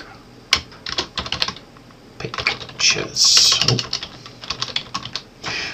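Typing on a computer keyboard comes as quick bursts of close key clicks in short runs, with a brief spoken word between them.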